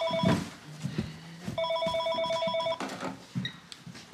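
Household telephone ringing in two electronic bursts indoors, with voices and movement sounds around it.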